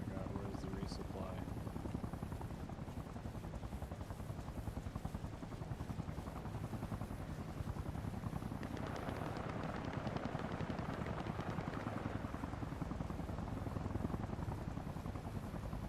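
Helicopter in a jeep simulator video game, a continuous rapid rotor thump and engine drone throughout, fairly close, with a faint voice underneath.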